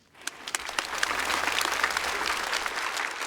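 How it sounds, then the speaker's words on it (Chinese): A theatre audience at a stand-up comedy show bursts into applause for the comedians, dense clapping swelling quickly and holding steady and loud throughout. "我们掌声给所有的演员"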